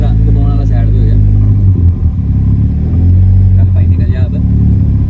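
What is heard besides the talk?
small car's powerful engine revving and accelerating in first gear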